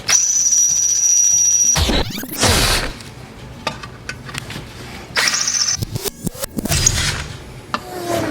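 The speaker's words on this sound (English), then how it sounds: "Now I'm going with the bigger drill bit now, 21/64." A power drill with a 21/64-inch bit whines and squeals as it bites into metal on a fertilizer spreader, with bursts of grinding and pauses between runs, close and loud.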